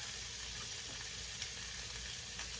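Butter melting in a hot frying pan while sandwiches cook gives off a steady, even sizzle that hisses continuously throughout, with no talking.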